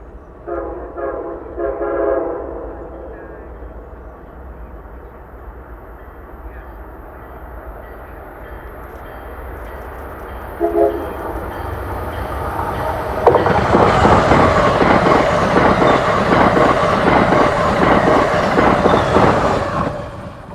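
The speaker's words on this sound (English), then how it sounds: "Next up is southbound Acela 2249, approaching at about 80 miles per hour" Southbound Amtrak Acela 2249 passenger train approaching at about 80 mph over a bridge, a horn blast early on, then a loud broadband rush and rumble as it sweeps past at speed.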